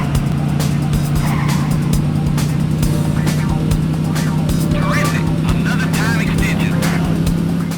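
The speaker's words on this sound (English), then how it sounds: "I like the low rumble sounds from the cars and that great music though." Race cars from the Sega Saturn game Daytona USA roar with a constant low engine rumble and squealing tires, loud and unbroken, while a voice talks over the game sound.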